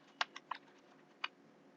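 A few sparse, quiet keystrokes on a computer keyboard while entering a Gmail username, four separate close clicks spaced irregularly across a near-silent background.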